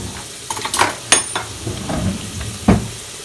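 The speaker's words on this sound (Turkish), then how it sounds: "Soğanımı, biberimi, sarımsağımı kavurdum. Salçamı atıyorum." Tomato paste goes into a pan of sautéed onion, pepper and garlic for an eggplant dish, bringing a moderate sizzle with a few sharp utensil clinks and stirring scrapes, and no talking.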